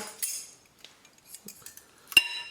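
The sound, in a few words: fork coating chicken drumsticks in marinade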